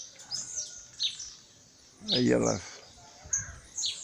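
Macaws perched on a bunch of açaí fruit, feeding, give harsh squawking calls in short repeated bursts nearby, while a person talks briefly.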